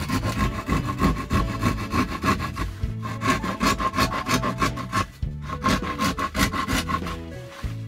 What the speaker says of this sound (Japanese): 全体的にね、もう少しだけ削って入れたいと思います